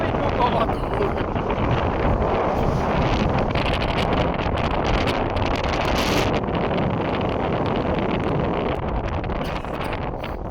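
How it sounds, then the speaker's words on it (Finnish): Strong mountain wind on the Silk Road Mountain Race route in Kyrgyzstan blasts the microphone with a loud, continuous roaring buffet that never lets up. "Aivan vittu kova tuuli."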